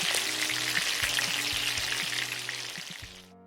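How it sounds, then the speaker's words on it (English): An egg frying in hot oil in a pan makes a loud, steady crackling sizzle that fades toward the end, with no talking. "For the egg, I am heating some oil in the same pan, then adding the egg."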